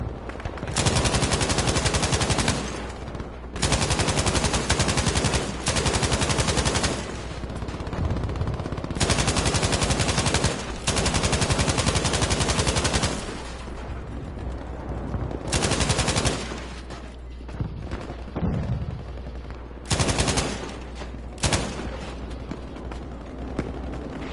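Video game gunfire rattles out in loud, dense bursts of automatic fire, several sustained volleys separated by brief lulls, with no talking.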